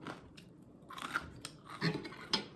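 Crispy deep-fried small fish being eaten up close: quiet, irregular bites and crunchy chewing in several short bursts, with no voices.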